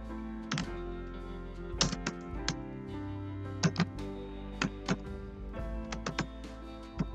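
Keys clacking on a computer keyboard while a simple hello world program in C is typed, heard as irregular bursts of close, crisp taps with short pauses and no talk.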